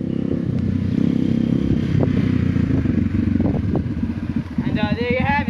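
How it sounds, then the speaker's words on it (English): A 1986 Kawasaki Bayou 300 quad running with a holed muffler, its engine a loud, continuous rough rumble with clattering, and a brief whistling tone near the end. "That's the Kawasaki Bayou 300. That's a test drive of it."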